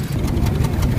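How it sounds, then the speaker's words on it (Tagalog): A car's rough-running, misfiring engine blares loudly through its exhaust, a close, continuous uneven rumble with no pauses. "Malakas yung tunog ng tambot."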